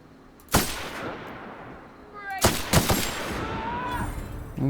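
Powerful weapon firing in The Outer Worlds: one sharp loud shot, then after a pause two more heavy blasts close together with ringing, whining tails, no voices over them.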